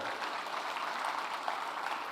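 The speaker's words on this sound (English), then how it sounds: "we really have to give Secretary Cristina a round of applause" Guests at a Philippine tourism industry reception applaud, giving a steady, even roar of many hands clapping that sounds fairly distant and lasts without a break.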